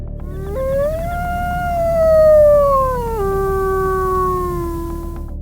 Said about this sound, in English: the howls of gray wolves echo through the misty dawn